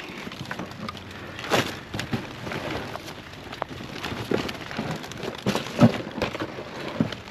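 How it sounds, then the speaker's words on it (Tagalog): Steady, dense rain hissing hard, with occasional louder thumps and splashes breaking through the constant downpour. "It's rain too hard."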